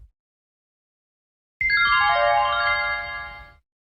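A telephone rings with a bright electronic trill, heard on a coin payphone call, one sustained burst of about two seconds that starts abruptly after near silence.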